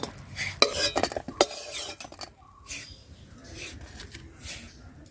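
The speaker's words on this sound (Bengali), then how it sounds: "এই বাটিতে তুলে নেব।" Fried crabs are scooped from a pan into a bowl with utensils, giving irregular metallic clinks and scrapes, loudest near the start, with a voice talking intermittently.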